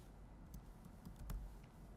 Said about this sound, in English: Start typing your address